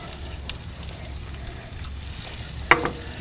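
Shallots fry in hot oil in a pan on a Kamado Joe grill, giving a soft, steady sizzle with a couple of brief sharper crackles.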